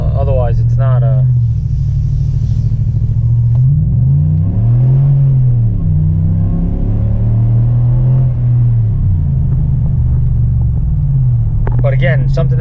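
A 2020 Chevy 2500 pickup with the 6.6 gas V8 and an MBRP exhaust accelerates, its deep droning exhaust note rising and falling through gears, loud from the cab, with brief talk at the start and end.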